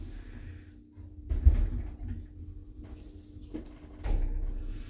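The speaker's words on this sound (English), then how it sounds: "Door closes while I push your button." A 2000 Pickerings lift at Lakeland Limited in Nottingham, its door sliding shut with a soft rumble and a few dull thuds over steady machinery hum, fairly close and moderately quiet.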